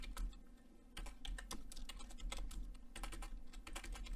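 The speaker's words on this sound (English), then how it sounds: "I can type some instructions." Rapid typing on a computer keyboard while entering game instructions, a steady run of close, crisp key clicks with no voice.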